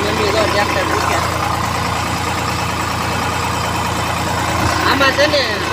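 Tractor engine running at a steady idle-like drone, loud and continuous, as voices speak over it in a farm setting.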